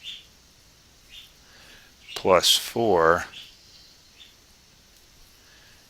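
Birds chirp faintly in the background outdoors with a few short, high, scattered tweets. Someone speaking close by briefly covers them.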